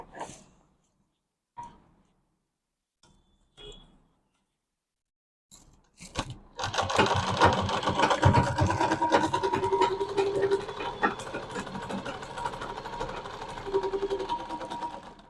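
A sewing machine stitches a medium-sized fabric bag. After a few soft scattered taps and handling noises, it settles into one long, steady, close-up run of continuous stitching.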